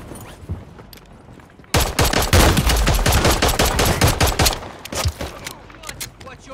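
Gunfire in the video game Fortunes Keep: after a quieter stretch, rapid overlapping bursts of automatic shots erupt loud and close, then thin out into scattered shots.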